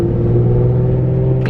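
Infiniti G37S with a bad wheel bearing while driving at low speed, a loud close rumbling drone with a low pulsing hum, heard alone briefly before a faint higher noise at the end.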